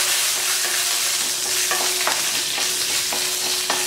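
Green chillies and urad dal sizzle in hot oil in a pan while coriander chutney is made, a close, continuous crackle broken by a few sharp scraping stirs.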